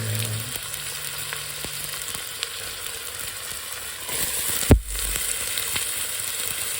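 Onions fry together with goat meat curry in a pot for biryani, giving a steady, fairly loud sizzling hiss throughout with a brief thump of handling partway through.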